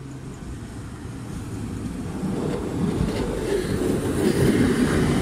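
A Regio passenger train bound for Szczecin Główny rolls into Goleniów station, a low steady rumble with faint rail clatter that grows gradually louder across the few seconds.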